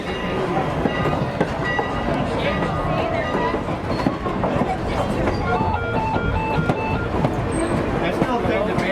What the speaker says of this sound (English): 89 passes once again with an outbound train.